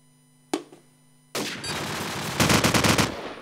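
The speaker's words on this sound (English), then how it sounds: "It seems almost desperate shooting here from Jesus." Gunfire in a competitive video game match: a single sharp shot, then a sustained burst of rapid automatic fire growing louder toward the end, close and dense.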